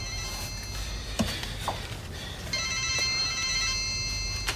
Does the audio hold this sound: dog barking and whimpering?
no